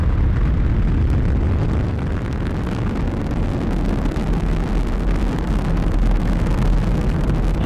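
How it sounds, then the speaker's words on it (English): SpaceX Falcon 9 rocket engines igniting at liftoff for the Crew-2 launch, a loud continuous roaring rumble with heavy crackling low-end, unbroken and overwhelming for the whole stretch, no voices over it. "Ignition and liftoff."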